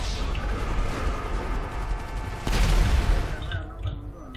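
Dense, chaotic gunfire and crashing effects fill a Grand Theft Auto V Online shootout, with a louder burst of shots midway, mixed over a busy game soundtrack.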